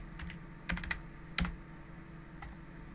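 A password tapped out on a computer keyboard: a few quick, close key clicks in two short bursts, then a single later press, over faint room hum with no talking.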